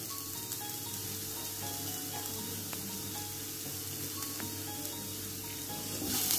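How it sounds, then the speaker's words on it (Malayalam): Onion and freshly grated coconut sauté in a pan for a South Indian okra and egg stir-fry, giving a steady, moderate sizzle and soft crackle throughout, with no talking. "ഇത് നന്നായിട്ട് വഴറ്റിയെടുക്കാം."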